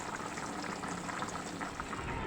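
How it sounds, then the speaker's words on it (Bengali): A pot of rice boils with a faint, steady bubbling and gurgling for a couple of seconds, with no talk. "ভাত ফুটে গেছে"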